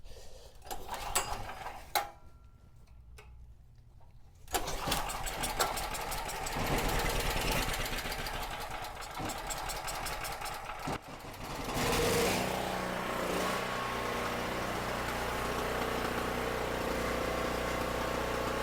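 A cheap small gasoline generator is pull-started and sputters, goes quiet briefly, then fires up and runs steadily with a buzzing drone, a drill press's mechanical whine joining later.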